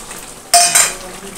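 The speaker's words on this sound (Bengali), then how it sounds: "এবার আমি ভেজে রাখা আলুগুলোকে এর মধ্যে দিয়ে দেবো" Fried potatoes tipped into a pot of chicken curry, heard as a single sharp metallic clatter of a utensil against the pot followed by a second quick knock over a quiet background.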